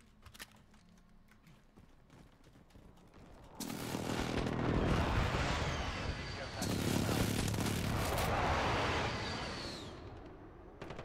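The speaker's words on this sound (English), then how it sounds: "Enemy precision airstrike." Precision airstrike explosions in a first-person shooter video game, two long roaring blasts that swell loud and rumble for several seconds each after a quieter stretch, with faint game sounds before.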